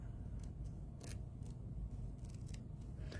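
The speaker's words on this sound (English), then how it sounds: "I can hear this cutting, so I know that it's my scissors are still doing quite well" Scissors snipping through paper at a card-making table, a run of short crisp cuts repeating irregularly, close and fairly quiet over low room hum.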